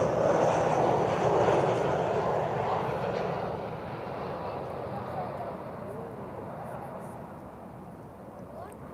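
An Air France A320 airliner lands at Lisbon Airport on a sunny afternoon, its engine roar broad and loud at first, then gradually fading as it rolls away, with talk faintly mixed in.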